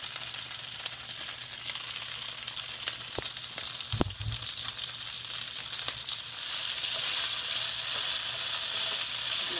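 Shrimp sizzle and fry steadily in a hot pan, a constant bright crackle throughout with a few soft clinks of a utensil midway and the frying growing slightly louder toward the end.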